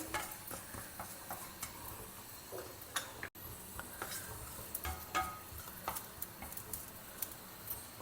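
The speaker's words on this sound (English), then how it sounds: "Heat a pan and just add a teaspoon of jeera, that is cumin seeds, and dry roast them." Cumin seeds dry roasting in a hot pan for a South Indian meal give a steady crackle and faint sizzle, with scattered light ticks and pops throughout.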